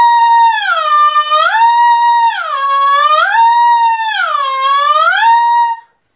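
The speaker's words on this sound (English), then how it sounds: "So what I'm going to do is I'm going to blow through the mouthpiece." A saxophone mouthpiece blown on its own, loud and alone, sustains a reedy buzzing tone whose pitch swoops down and back up in three repeated bends before stopping.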